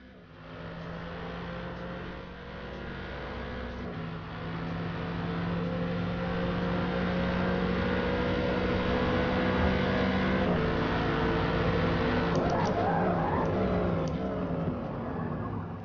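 A Mercedes AMG race car in Forza battles a Dodge Viper at Hockenheim, its engine droning loudly and rising in pitch as it accelerates, steady sustained racing noise without speech.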